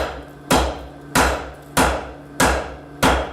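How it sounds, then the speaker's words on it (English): A blacksmith's hammer strikes hot metal during forging, five loud, evenly spaced blows, each ringing briefly before the next, with no talk. "I'm gonna take my hammer."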